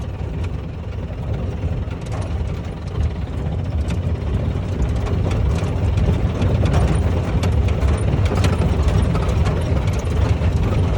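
An old diesel car engine running steadily up close, a continuous low rumbling clatter with rattling mechanical ticks throughout, no voices.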